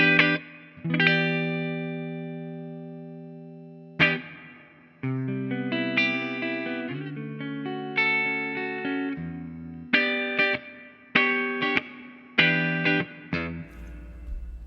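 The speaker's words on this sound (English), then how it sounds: "Let's add a little bit of that reverb, 65 spring." Clean electric guitar chords and single notes through a Fender Mustang Micro Plus ring out with a splashy, metallic spring reverb tail set at 65, played in phrases with brief pauses, close and clear.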